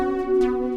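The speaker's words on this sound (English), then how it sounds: "this sound is called Fluffy Glitter" Fluffy Glitter, a synth preset from the synth section of Logic's Alchemy, plays a sustained bright harmonic tone with a soft shimmering swell, clean and alone, in a summer R&B beat context.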